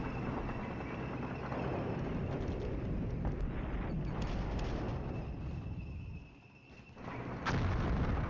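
Airstrikes and mortar fire in the Flashpoint Campaigns: Southern Storm wargame: a continuous rumbling barrage of distant booms and blasts, dipping briefly before a sharp louder impact near the end.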